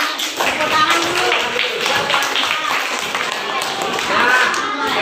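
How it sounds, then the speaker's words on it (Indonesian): Schoolchildren at an elementary school clap their hands together in a dense, steady burst of applause lasting the whole moment, with voices and chatter mixed underneath. "Tepuk tangan dulu."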